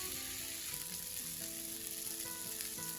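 Paneer tikka skewers grill with a steady, close sizzle, an even crackling hiss that runs without a break, while a soft tonal hum plays low beneath it.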